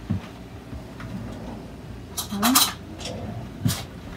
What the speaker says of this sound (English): Let's go ahead and stir this over here.